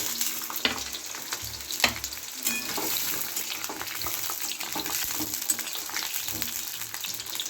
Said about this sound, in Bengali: পটল ভাজা আগে করে নিচ্ছি